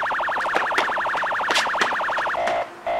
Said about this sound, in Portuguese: Eu sabia que colocar o som de sirene no meu celular ainda seria útil.